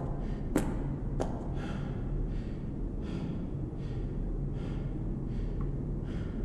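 A game character explores an abandoned hospital in the horror game Chuxie, breathing in slow, rhythmic, airy breaths about every half second to second, soft and close over a low steady hum, with a couple of sharp clicks near the start.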